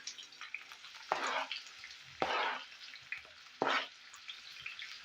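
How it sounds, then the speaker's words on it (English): Onions going into ready hot oil for a vegetarian green bean stew, giving three distinct loud sizzling bursts about a second apart, each fading quickly into quiet frying crackle between them. "My oil is ready, so I'll start with my onions first."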